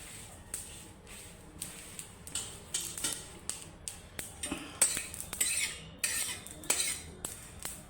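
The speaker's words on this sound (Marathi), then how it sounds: "म्हणून असा भाजून घ्यायचा आणि बडीशेपमध्ये मिक्स करायचा चांगला चटचट भाजून घ्यायचं" Carom seeds (ajwain) dry-roast in a pan, stirred with a metal utensil, giving a series of close, quiet scrapes, rattles and clinks in an uneven rhythm, with no voices.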